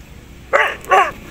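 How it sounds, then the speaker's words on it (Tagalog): Two sharp, close dog barks in quick succession, loud and clear against a quiet background. "Aso dun siya."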